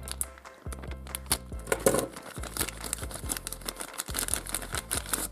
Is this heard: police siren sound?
no